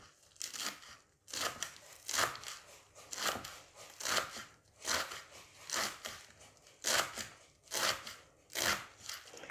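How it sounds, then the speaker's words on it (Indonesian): Knife chopping leeks finely on a cutting board, crisp regular strokes about one per second, close and fairly quiet, with no talking. "Bawang prei saya rajang kecil-kecil."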